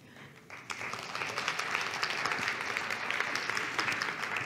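Audience applause in a conference hall welcoming a session moderator at GLOBSEC 2025, swelling in after a brief quiet start into steady, dense clapping from a large crowd.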